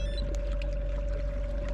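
A Garmin Force electric trolling motor running on 24 volts on a lake, giving a steady, continuous whine over a low churning rumble of water, with no pauses.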